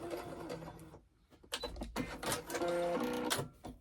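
A sewing machine stitches forward, pauses, then backstitches over a pocket prayer fabric project, its motor whirring steadily and close with a short gap in the middle.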